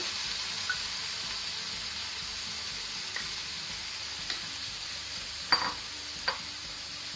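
Ground masala being stirred into lightly fried onions on a slow gas flame for prawn ghee roast, a soft continuous sizzle with occasional scraping clicks from the spoon, close and fairly quiet.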